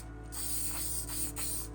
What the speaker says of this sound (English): I'll spray with the, I've got the can here, and I'm actually spraying down from the top